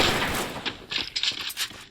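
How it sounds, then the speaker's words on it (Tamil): Bursts of gunfire crackle from a battle royale video game, several rapid shots in a quick, uneven cluster over about two seconds, loud and close. "பக்கத்துல மேல இருந்து சுடுறா மக்களே"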